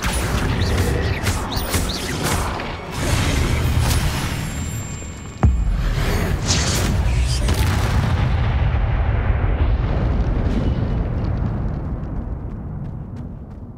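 Blasting-spell explosions in a fantasy wizard combat game, a dense barrage of loud booms and crashes layered over a continuous roaring rumble, with a sharp burst midway and the din slowly easing toward the end.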